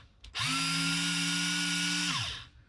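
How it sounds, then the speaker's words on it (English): A Snap-on cordless polishing gun spins up and runs steadily at one speed for about two seconds, then winds down; a loud, close, whining motor hum with no talking. "So I wanted to get the polishing gun to be able to do some fine polishing. We've got 2 speeds."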